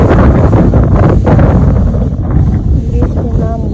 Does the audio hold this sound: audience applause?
no